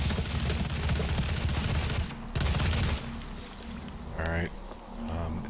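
Heavy assault rifle firing in DOOM SnapMap, a dense, loud burst of automatic gunfire for about two seconds, then a brief pause and another rapid volley, followed by quieter game sounds.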